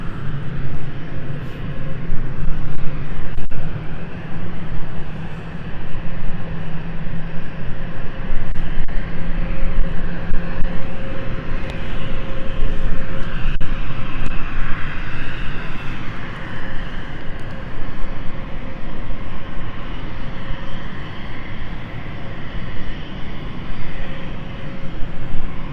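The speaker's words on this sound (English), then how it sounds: "As number 2 engine's now spooling up." Engines of an Embraer 190 airliner spool up at London City Airport, a steady loud roar with rising whine held for the whole stretch, heard from a distance outdoors.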